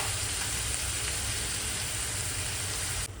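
Chopped onion frying in oil in a pan while cooking a Marathi-style bottle gourd curry, a steady soft sizzle with a hissing crackle running evenly throughout, with no voices.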